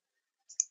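A mouse click lands in bridge pier modeling software: two quick, faint clicks close together, alone in silence.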